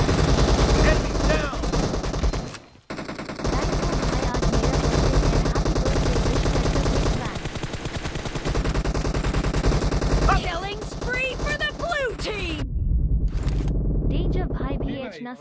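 Rapid gunfire bursts from the mobile battle royale game BGMI in a team deathmatch, dense and loud throughout with short pauses, mixed over game effects and people talking.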